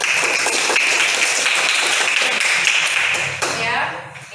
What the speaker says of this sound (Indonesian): yuk silakan tepuk tangan untuk kalian semua